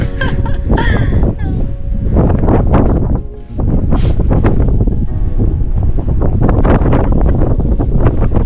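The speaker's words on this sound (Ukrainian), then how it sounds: "Такий вітер дує, що нас там з каменів збиває." Strong wind on Rysy mountain in the Tatras buffets the microphone in loud, constant roaring gusts, with a few voices speaking briefly under the blustery noise.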